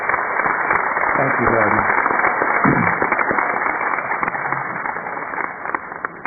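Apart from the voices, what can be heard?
audience applause at a university commencement ceremony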